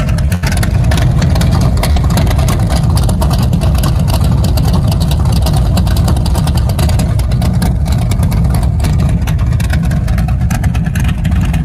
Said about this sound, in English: And that's your sound with the exhaust cutouts.